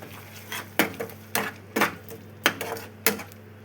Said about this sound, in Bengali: অল্প সময় কষিয়ে নেব পালং শাকটা